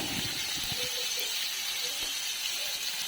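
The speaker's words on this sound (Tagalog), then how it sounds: "Itutosted na po natin yung karni." Meat toasting in a pan for pakbet, a steady broadband sizzle and hiss that holds evenly throughout, close and continuous, with a few faint knocks early on.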